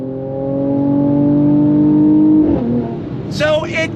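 A 2023 Mercedes-AMG C 43 accelerates with a loud rising engine note, then shifts gears with an abrupt drop in pitch, and a voice exclaims over it at the end.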